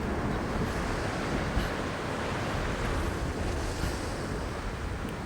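Steady wind roars throughout a Tomb Raider video game scene as a constant, full, broadband rush with slight gusting swells and nothing else standing out.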